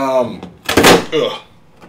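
A bathroom door fitted with an accessibility opener being handled, giving a loud close thunk and scraping amid a person speaking nearby.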